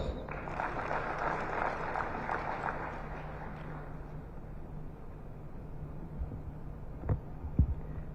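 Applause from a congress audience welcoming the society president, a broad wash of clapping that swells early and fades over several seconds, heard at a distance with a few faint thumps afterward.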